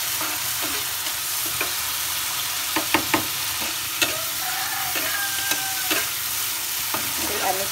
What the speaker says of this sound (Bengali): মশলা কষানোটা ভালোভাবে সম্পন্ন হবে।